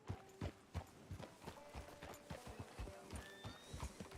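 Horse hooves clip-clop in a steady walking rhythm in Red Dead Redemption 2, with a whinny partway through, fairly quiet and near, no talk over it.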